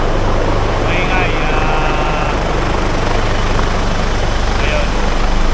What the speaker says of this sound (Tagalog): Yun po yung helicopter maingay.